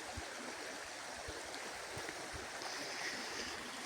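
Small river rushing past a little irrigation dam where a canal branches off to water gardens, a steady broadband wash of flowing water with low gurgles, close and continuous with no voices.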